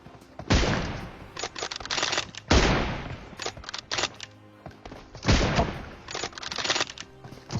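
Gunfire from a 1v1 team deathmatch in a battle-royale style video game: several bursts of rapid shots, loud and close, separated by brief pauses.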